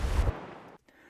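Wave sound effect closing a produced reel: a loud, deep whooshing crash that fades over about half a second, then a short gap of silence and a faint tail.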